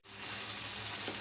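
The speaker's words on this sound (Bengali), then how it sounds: "আলুটা আমি ভাজি আকারে ভেজে নিয়েছি" Potato pieces fry in a pan with a brief, dense, even sizzle heard close up, with no pauses and no voices.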